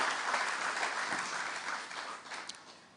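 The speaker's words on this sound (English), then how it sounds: "Please give him a round of applause." An audience at a leadership and ethics summit claps to welcome a speaker, moderately quiet, dense applause that gradually fades over a few seconds with a couple of sharper individual claps near the end.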